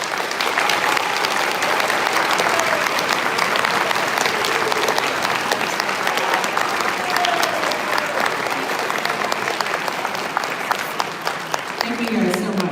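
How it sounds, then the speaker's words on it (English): A school auditorium audience at a 7th-grade winter band concert applauds honor band students in a loud, sustained ovation lasting several seconds, with scattered voices and cheers mixed into the clapping. "Let's give them a big round of applause."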